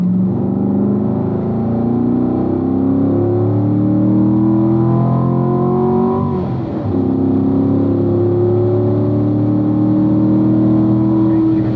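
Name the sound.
race car engine accelerating on track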